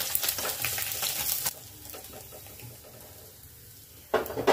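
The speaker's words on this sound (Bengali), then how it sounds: "এই মাছগুলো আমার ভাজা হয়ে গেছে, আমি এই মাছগুলো এবার তুলে নেব।" Fish frying in hot oil in a pan, a crackling sizzle that is strong at first, drops to a softer hiss in the middle, then flares up loudly again near the end, with no one talking.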